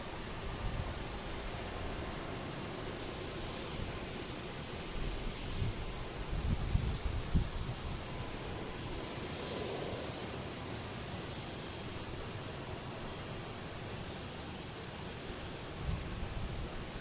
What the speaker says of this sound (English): Here's American heading to Miami at A321neo,